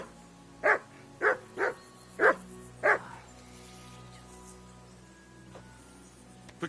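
A dog in Kingdom Come: Deliverance II barks five times in a quick, loud, fairly evenly spaced run, then falls quiet against a steady background of game ambience.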